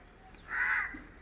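A crow caws once, loud and close, from a large neem tree, a single harsh call standing clearly above quiet background noise.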